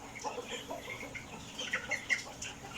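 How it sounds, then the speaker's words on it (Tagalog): Backyard broiler chickens about 25 days old cluck and chirp in soft, scattered bursts, a small flock heard close with no talking. "Small time lang na backyard na broiler."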